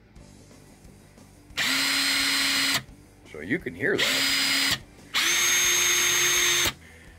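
A Porter-Cable 18V cordless drill runs in two loud, steady bursts of roughly a second each, with a brief spoken remark between them.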